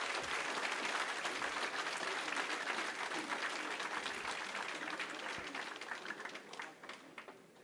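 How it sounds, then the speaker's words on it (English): Auditorium audience breaking into applause for a political guest speaker, a loud, dense wash of many clapping hands that holds steady and then begins to taper off toward the end. "please give a big round of applause to Mr."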